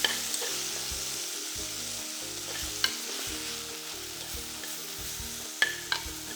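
Ginger, garlic, spring onion whites, chili and salted fish frying together in a pan: a continuous close sizzle with occasional sharp crackles and stirring clinks, no voices.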